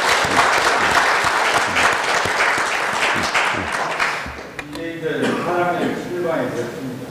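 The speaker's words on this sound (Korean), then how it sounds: "격려의 큰 박수를 좀 부탁을 드립니다" Audience at a Sejongno national policy forum breaks into sustained, dense applause that fills the room, then tapers off into someone speaking over a microphone.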